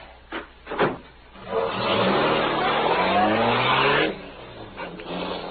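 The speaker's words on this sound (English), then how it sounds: "Once more, the powerful black car roared through the city streets" A powerful black car roaring through city streets, its engine swelling into a long loud revving roar with rising pitch after a couple of brief bursts, then dropping away as it passes.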